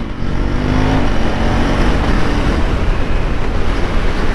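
A KTM Duke 390 motorcycle engine revs loud and close with a quick shifter, giving a continuous, dense roar that holds steady without pause.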